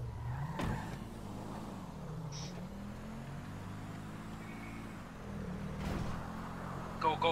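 A car driving off in GTA Online, an engine droning and revving as it pulls away, heard at moderate level with short sharp noises and talk over it.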